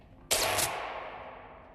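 A single sharp gunshot rings out in Squid Game Season 2 footage, a loud sudden blast that fades into a long, slowly decaying echo tail.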